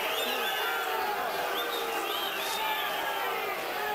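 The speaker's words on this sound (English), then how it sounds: "Marquez fans booing Vargas for losing the mouthpiece" Crowd at a 1999 boxing match between Fernando Vargas and Raul Marquez, Marquez fans booing Vargas; a steady, dense roar of voices fills the arena with no pauses.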